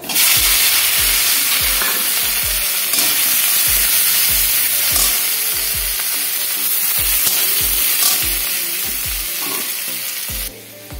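Loud, continuous sizzling of banana flower frying in hot oil in a wok, with regular scraping stirs from a spatula in the pan throughout.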